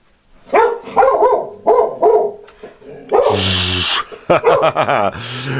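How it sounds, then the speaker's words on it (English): A dog barks repeatedly nearby in loud bursts, mixing short yips and whimpering whines with longer drawn-out howling barks, in an uneven rhythm with no talking. "My dog is barking."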